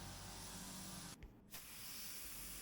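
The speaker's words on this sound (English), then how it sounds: "To apply the lacquer I used my W400 Valeria spray gun." Spray gun with a 1.3 tip applying lacquer to a repaired car panel, a steady close hiss that cuts off briefly mid-pass and resumes.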